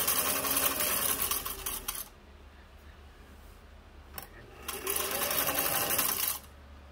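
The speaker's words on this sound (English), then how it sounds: "So the sound that you're hearing is nothing wrong with the machine. It's just the metal bobbin that's in the bobbin case." Singer 247 sewing machine stitching with a metal bobbin rattling in its bobbin case, two close bursts of rapid mechanical whirring and clatter separated by a quieter pause with a few ticks.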